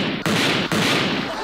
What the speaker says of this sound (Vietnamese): Anh bắn em nè, bèn bèn